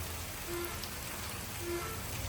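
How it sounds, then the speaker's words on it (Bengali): Steady rain falls on a surface in a village, a continuous soft hiss with no voices. "গ্রামে অনেক বৃষ্টি"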